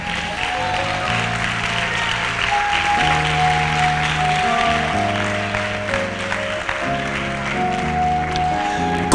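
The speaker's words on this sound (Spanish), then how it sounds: "Dale palmas al Rey." A church congregation claps along with music during a worship service. The clapping is steady and continuous, blending with sustained instrumental tones throughout, with no spoken voice rising above it.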